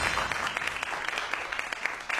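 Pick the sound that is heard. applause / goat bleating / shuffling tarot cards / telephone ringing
applause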